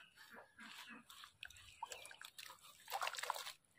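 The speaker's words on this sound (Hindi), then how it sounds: "यहाँ धोना है यहाँ पानी है" Water splashing, trickling and sloshing as scrap is washed by hand outdoors in a village, with irregular close bursts of dripping and pouring, fairly quiet.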